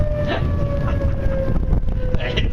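A steady, wailing tornado siren tone holds through the clip beneath constant low rumbling background noise, sounding outdoors and moderately distant.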